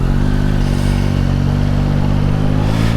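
A Yamaha MT-09 motorcycle is ridden with a steady, loud engine drone, a rich low harmonic hum holding nearly constant, with slight rises in pitch from throttle changes and no talk over it.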